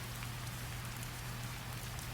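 Steady rain patters evenly and continuously, a soft dense hiss with a low hum underneath and no voices.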